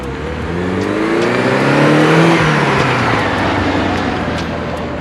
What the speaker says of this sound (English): let's go take it for a drive